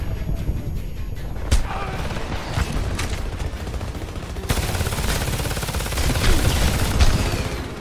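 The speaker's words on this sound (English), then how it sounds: "you'll hear the constant low thrum of explosions and peppering gunfire as you run up to fight" Multiplayer combat in the Homefront shooter: sharp bursts of automatic gunfire crackle over a continuous low rumble of explosions, with several heavier blasts standing out amid the chaotic, steady din of battle.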